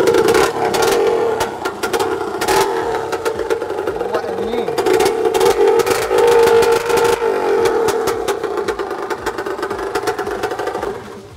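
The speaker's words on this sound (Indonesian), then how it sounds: "Tu try start motor." A motorcycle engine is started and then revved in short, rattly bursts at close range, with several people talking over the noise.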